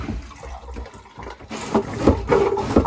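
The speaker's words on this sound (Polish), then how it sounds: "Sprawdźmy też zawsze toalety. Czy toalety są drożne, czy woda wypływa." Marine toilet on a sailing boat being flushed, a burst of gurgling, sloshing water that starts softly and then surges in louder pulses as the water drains out.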